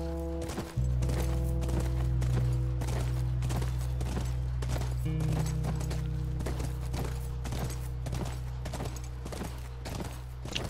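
Horse hooves clip-clopping at a steady walking pace in The Last of Us, loud and close over a sustained low droning music bed, with no talking.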